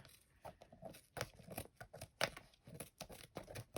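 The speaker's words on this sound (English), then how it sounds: "And I'm going to use a scissor, just cut it off." Scissors snip through bookbinding tape on a washi-covered notebook, a series of quiet close crisp cuts and crinkles at an irregular rhythm, with no talking.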